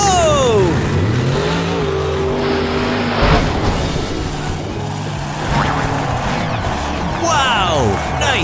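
A monster truck's engine revs and whines up and down as it jumps over five buses, with a heavy thud midway and skidding-like tire noise, loud and close.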